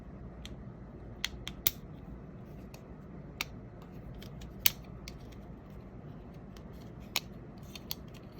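Scissors make sharp, sparse snips while trimming around a battery clip, isolated clicks spread irregularly over a quiet background hiss; no voices.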